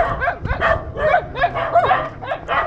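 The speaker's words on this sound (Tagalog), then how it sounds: "Ang daming aso, oh." Several dogs bark and yip in quick, overlapping bursts close by, a busy chorus with some higher whiny yelps mixed in.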